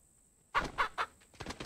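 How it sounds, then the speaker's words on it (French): Chickens in the Pacify video game give three quick, clear clucks in a row, followed by a few softer cackles, heard alone over a faint steady hum. "Oh, chouette, les poules."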